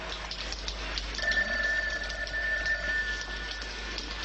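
An old telephone rings indoors in a 1989 wartime film setting, a thin, steady electronic bell tone sounding faintly under a soft rainy hiss for a couple of seconds.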